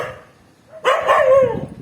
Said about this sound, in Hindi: ये बच्चे पे भौंक रहे हैं।